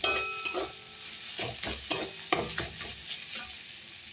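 Close sizzling in a pan with repeated scraping and tapping strokes as bathua greens are stirred and tossed, a rhythmic series of clatters, no voices.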